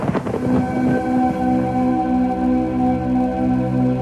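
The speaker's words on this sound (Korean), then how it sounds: "이 소리는 스트레스 감소를 도와주는 안마의자 LG 힐링미의 마인드 케어 사운드입니다." Thunderstorm relaxation soundscape from an LG Healing Me massage chair, a deep rumble of thunder opening into a steady wash of rain with sustained low tones, loud and continuous with no voices.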